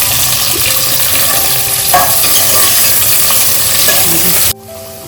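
Onion pieces fry loudly in a pan for mutton biryani in a pressure cooker, a strong continuous sizzle with scraping stirs and an occasional knock, close up, cutting off abruptly near the end.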